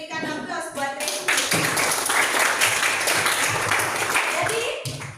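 A group applauds Resti with a steady burst of clapping that swells after a short spoken lead-in and lasts about three seconds. A voice speaks briefly before and after it.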